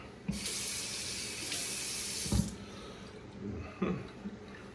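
Water runs from a tap as soap is rinsed out of a shaving brush, a steady broadband rush with a few brief splashy bumps as the brush moves under the stream.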